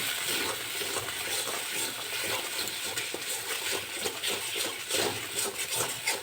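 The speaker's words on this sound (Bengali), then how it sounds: "এবার সব মিশিয়ে নেব।" Spices being stirred into food frying in a little oil in a pan, a steady sizzle with soft scraping and clinks of the spoon, close and continuous with no talk.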